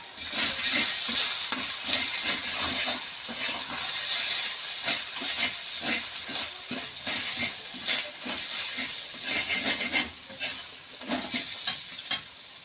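Ginger paste with a pinch of salt frying in hot oil for a vegetable dal, a continuous loud, hissing sizzle with rhythmic stirring scrapes, close up and without voices.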